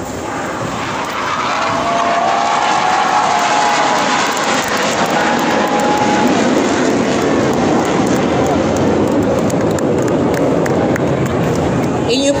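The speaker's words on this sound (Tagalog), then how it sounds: "Inyo pong nasaksihan ang high-speed opener pass o ang mabilisang paglipad ng FA-50PH" An FA-50PH fighter jet makes a high-speed flypast at a military inauguration ceremony, a loud, sustained roar that swells and holds across the whole stretch, with a shifting whine on top and a crowd and announcer faintly underneath.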